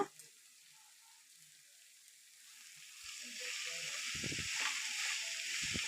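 Salted banana flower stir-fry (thoran) is stirred in a pan over low to medium flame. It starts nearly silent, then a soft sizzle rises, broken by a few dull knocks of the spoon against the pan.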